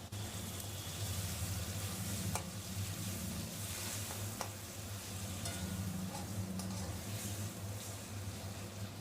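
Marinated prawns and five green chillies frying in a pan with black cumin for a Bengali okra jhal make a quiet, even sizzle with occasional spoon taps and a faint low hum underneath, no talking.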